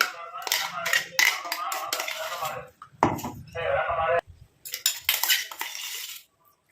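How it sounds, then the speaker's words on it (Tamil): Henna paste is spread around an iron kadai, producing close, intermittent bursts of metallic scraping and clattering separated by short quiet gaps. "இப்போ இந்த இரும்பு கடாயில் நம்ம இந்த மருதாணி பேஸ்ட்டை வந்து போட போகிறோம்."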